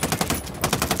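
Rapid automatic gunfire in Ghost Recon Wildlands, a dense burst of loud repeated shots with a brief dip in the middle before the firing picks up again.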